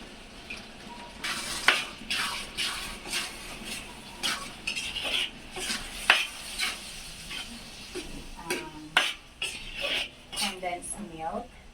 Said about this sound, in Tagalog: mix na natin ang sauce